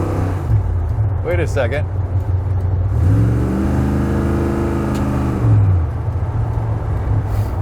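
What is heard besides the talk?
vehicle engine revving while shifting through gears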